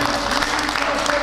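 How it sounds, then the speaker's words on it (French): Applause for the commune of Boisey, a dense, steady wash of clapping throughout with a voice faintly mixed in. "Il faut applaudir la commune de Boisey"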